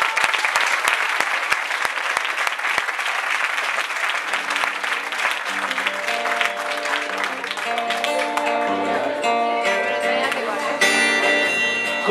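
Concert audience applause at a live show, loud rapid clapping from a crowd that carries on as the band starts playing, music gradually rising beneath and then over the clapping.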